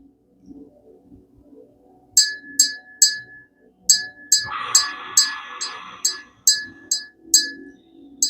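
A hand-held bell rung by its clapper alone while the bell is kept still, giving a series of about a dozen bright, separate dings in a loose rhythm with a brief rattling clatter in the middle, close and clear with no talk.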